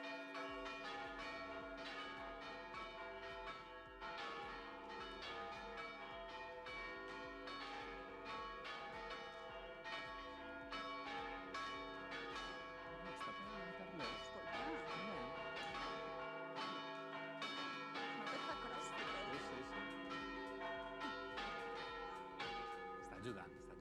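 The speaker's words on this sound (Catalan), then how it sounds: "Així és com sonen les campanes del campanari de Santa Maria Magdalena" Several church bells of the Santa Maria Magdalena bell tower in l'Olleria peal together in a rich, continuous ringing, overlapping tones sustaining and clanging steadily throughout, loud and full.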